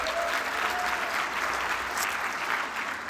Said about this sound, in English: you can cheer and wave for all these great organizations